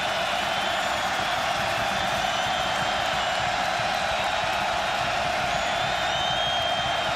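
Loud, steady roar of a college football stadium crowd cheering throughout, Oregon at Cal, with no break in the dense wash of voices.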